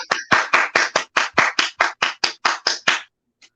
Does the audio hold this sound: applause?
yes